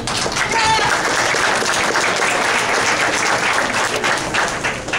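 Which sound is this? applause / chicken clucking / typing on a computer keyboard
applause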